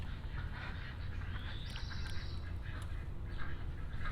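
Ducks heard from a distance, with a few faint quacks over steady outdoor background noise.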